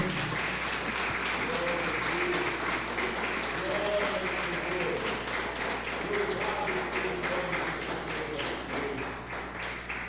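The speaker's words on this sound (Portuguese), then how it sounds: "A gente pode honrar Jesus dando para ele uma linda salva de palmas." Congregation applause during a church sermon, a dense steady wash of many hands clapping for about ten seconds with some voices mixed in beneath it.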